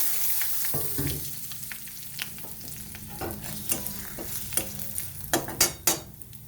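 Dried red chillies and mustard seeds tempering in hot oil for a bitter gourd and mung dal dish give a soft steady sizzle, broken by scattered sharp pops and utensil clinks that grow louder toward the end.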